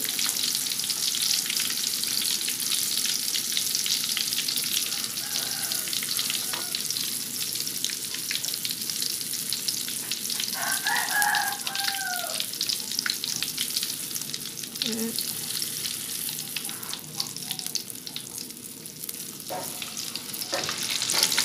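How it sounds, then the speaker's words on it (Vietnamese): Tofu skin rolls frying in hot oil, a steady dense sizzle and crackle that runs throughout, with occasional faint stirring sounds and no talking. "Rồi bây giờ dầu mình nó sôi vậy ha, mình sẽ thả cái phần này cho mình chiên nha các bạn."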